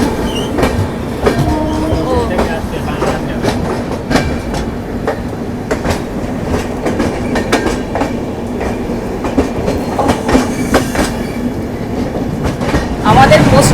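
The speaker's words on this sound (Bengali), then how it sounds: "একটা ট্রেন আসছে, তোমাদেরকে দেখাই কি ট্রেন" Passing South Central Railway train hauled by a WAP-7 electric locomotive on the Chennai to Kolkata route, heard from a moving train as a continuous rumble with rhythmic clickety-clack of wheels and occasional sharp knocks.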